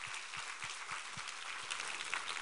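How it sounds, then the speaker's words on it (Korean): Applause from a church congregation during a Sunday worship service, a steady wash of clapping at moderate distance with faint low thumps recurring underneath. "우리 하나님께 감사와 영광의 박수를 올려드리겠습니다."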